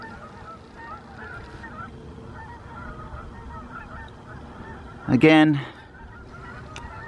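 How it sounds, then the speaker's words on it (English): A flock of Canada geese honks overhead in a short, loud burst near the end, set against steady low outdoor background noise in a town street. "Flock of Canada geese flying overhead."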